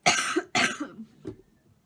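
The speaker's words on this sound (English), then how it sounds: "I'm still trying to get past this cough." An adult gives two harsh coughs in quick succession, close and loud, followed by a softer throat-clearing sound, with no talking.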